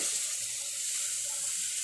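Hot water is poured slowly into roasting semolina for sheera in a pan, producing a steady, close hiss and bubbling sizzle with no talk.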